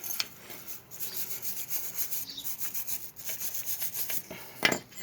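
Someone scrapes grime off a dirty car brake caliper part with quick rough strokes. The rasping comes in a steady repeated rhythm, close and fairly quiet, and no one speaks over it.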